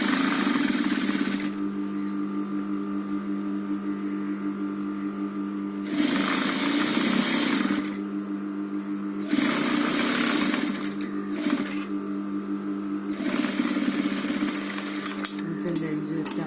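A sewing machine runs in steady whirring bursts of several seconds each while stitching a cloth bag, pausing between seams, with someone speaking at times over the motor.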